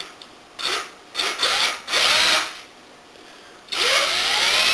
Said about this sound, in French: j'ai monté ma mèche à bois de 3 mm, 3 mm 5. Je vais faire un pré-perçage.